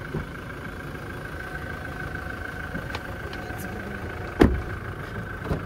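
A Toyota Hilux idling in an off-road setting as the drive begins, a steady low engine hum with a faint whine, broken by a sharp thud or knock near the end.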